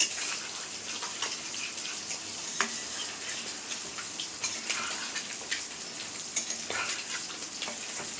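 Chicken spiced with ground cumin frying in a pan while being stirred, giving a steady, fairly quiet sizzle broken by scattered scraping and clinking strokes.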